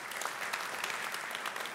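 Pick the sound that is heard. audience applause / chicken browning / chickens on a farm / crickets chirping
audience applause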